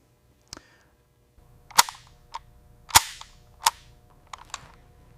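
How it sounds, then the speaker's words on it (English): An M4 carbine's action is cycled on a production line, giving a few sharp, separate metallic clacks and snaps spread over several seconds against a quiet background. "The takedown pin locks the weapon into one unit. The action is cycled."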